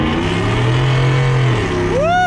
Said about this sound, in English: Let's hear that Corsa performance exhaust come to life